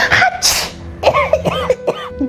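A child coughs several times in short, close bursts, with throat-clearing sounds between the coughs.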